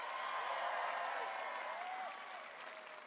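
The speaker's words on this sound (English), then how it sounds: "please give them a big round of applause as well" Large political rally crowd in Des Moines, Iowa applauding and cheering at a presidential campaign speech; dense, sustained clapping with some whoops, steady and loud, easing slightly toward the end, no speech over it.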